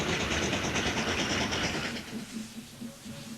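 A steam train on the Somerset and Dorset railway rolls downhill south of Masbury, a steady rumbling clatter of wheels on track that eases and grows quieter after the first couple of seconds.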